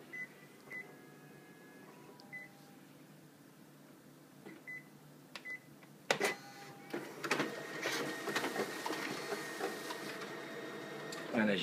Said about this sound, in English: we're going to take these copies, we're going to run them through the document feeder